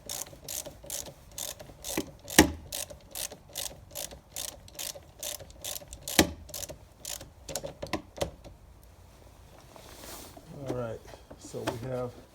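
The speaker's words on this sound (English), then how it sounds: "now at this point right here, we should have actually a working winch. We got full power going to it now." A winch on a 2012-2018 Jeep Wrangler JK runs in a rapid ratcheting clicking rhythm, close and steady for about eight seconds before stopping, followed by a voice speaking.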